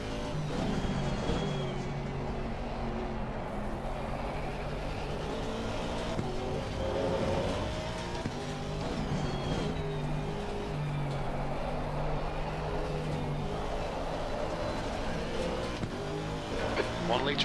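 A race car engine in Assetto Corsa Competizione at the Hungaroring revs and shifts continuously through corners, with rising and falling pitch sweeps, faint tire noise and a radio voice speaking over it at times.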